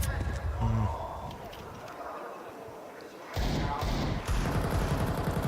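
Gunfire from the video game Counter-Strike 2 crackles in several bursts and rapid volleys, loud and close, with a voice talking over part of it.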